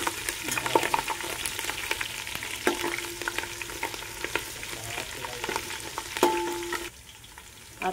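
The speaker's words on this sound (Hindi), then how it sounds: "अब इसमें हरी मिर्च डालेंगे, हरी मिर्च डाल देते हैं। हरी मिर्च डाल दिए, फिर चला देते हैं।" Green chilies stir-fry with garlic and ginger in a pan, giving a moderate, even sizzle punctuated by spatula taps and scrapes, fading somewhat near the end.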